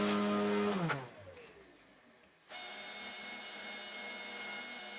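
A power drill bores through an aluminum chassis, starting with a loud steady whine that drops and slows, goes nearly quiet, then resumes at full speed as a bright sustained high-pitched grind, close up with no talking.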